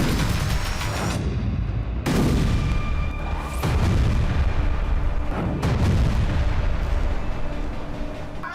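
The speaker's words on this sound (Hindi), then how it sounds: "सीरियल ब्लास्ट हो रहे हैं।" Serial explosions and bombardment in Gaza: loud, heavy booms strike one after another at irregular intervals, each rolling out into a long rumbling echo over a dense background roar.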